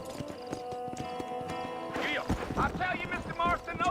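Horse hooves clip-clop in the video game Red Dead Redemption, with a brief whinny. The steady hoofbeats sit under game music, and a voice comes in toward the end.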